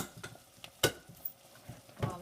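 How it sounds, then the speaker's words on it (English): Carrots sautéing in a pan for a quick vegan veggie soup, a soft low sizzle broken by a few distinct spatula scrapes and clacks, fairly quiet, no voices. "get those carrots sauteing"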